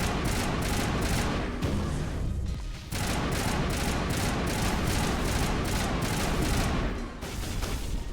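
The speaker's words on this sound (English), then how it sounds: "Who else is shooting me?" Rapid assault-rifle gunfire from a Mass Effect firefight, loud, dense and sustained bursts with a brief lull, incoming shots mixed in.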